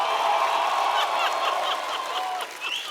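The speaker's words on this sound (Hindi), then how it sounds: "तो जोरदार तालियों के साथ स्वागत कीजिए" Studio audience on an Indian TV comedy show applauding to welcome celebrity guests, a dense steady wash of clapping with some cheering, sustained and fairly loud throughout.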